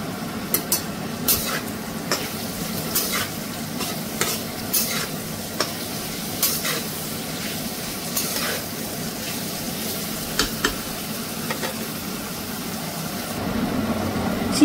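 Carrots fry in a pan for fried rice, giving a steady, close sizzle broken by frequent scraping stirs of a spatula against the pan.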